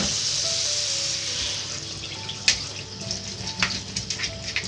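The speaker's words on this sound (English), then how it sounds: "So you run your cold water over the top." Cold tap water runs over boiled potatoes in a strainer at a kitchen sink, a steady hissing stream that fades and gives way to scattered splashes and drips, with no talk.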